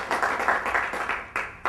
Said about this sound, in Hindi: इसमें तालियां बजाने वाली कौन सी बात है?